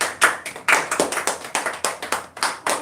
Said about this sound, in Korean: 한번 박수 한번 합시다. 박수.